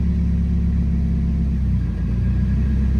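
A 1991 Nissan 240SX engine drones low and steady while accelerating in sixth gear, a continuous close rumble from inside the car with no talking.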